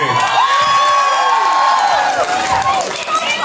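Crowd cheering, shouting and some clapping at a rock band's record release party at Tavastia, loud and lively with voices rising over the noise.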